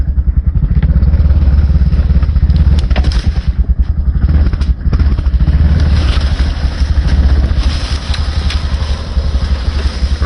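A Honda Recon 250 ATV engine running steadily while reversing on a hill, a loud, close, rumbling putter that holds throughout with no speech.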